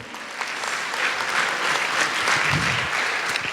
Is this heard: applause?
yes